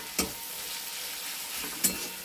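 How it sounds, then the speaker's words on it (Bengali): Lentil mixture with jaggery powder stir-fried in a pan, a faint steady sizzle broken by two brief scraping stirs of a spatula, no voices. "এটা একটু কষে নিই ভালো করে"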